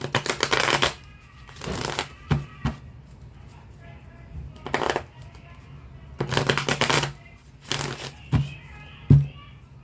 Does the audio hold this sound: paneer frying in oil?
no